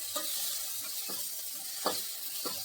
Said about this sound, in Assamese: বিলাহীখিনিও মই ভালদৰে ভাজি ল'ম